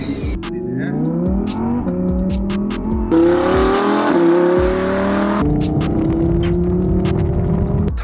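Engine of a 2020 Mercedes A35 AMG with crash damage revving as the gas pedal is pressed. The engine hum rises in pitch through a couple of revs, then settles back, heard up close and fairly loud.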